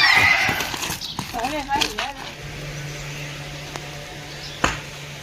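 A Punjabi mare whinnies in a wavering call, with a few sharp hoof knocks, while people talk nearby.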